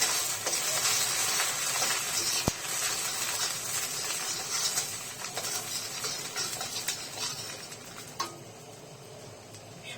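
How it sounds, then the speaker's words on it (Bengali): Whole spices for tempering frying in hot oil for a Bengali raw jackfruit dish, a close, steady sizzle and hiss with a few sharp pops and crackles, no talking. "এখন ফোড়নের জন্য যে মশলাগুলো রেখেছিলাম সেগুলো দিয়ে দিব। হালকা একটু ভেজে নেব।"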